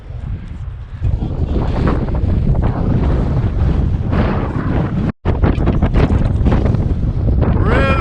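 Strong winter wind buffets the microphone outdoors in the snowy backcountry during a camping trip, a loud, constant roar with one brief cutout.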